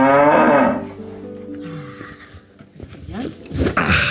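A dairy cow on a small farm in Nakuru gives a loud, drawn-out moo close by, followed by quieter rustling and a brief voice or animal sound near the end.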